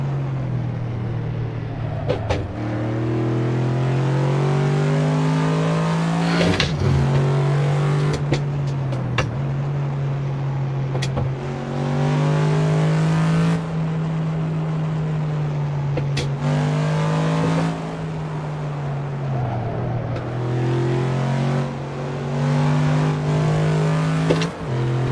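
A car driving along LA canyon roads in the Assetto Corsa racing game, its engine droning steadily with rising and falling revs and gear changes, near and loud, with occasional sharp clicks and no talking throughout.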